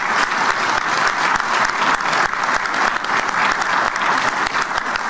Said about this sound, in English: ladies and gentlemen, you should and must clap for that